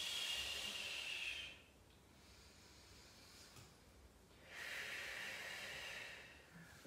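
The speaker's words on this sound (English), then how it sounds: "Maybe exhales out of the mouth" Two long, breathy exhales through the mouth during a yoga flow, soft airy rushes separated by a quieter pause, close to the ear with no speech.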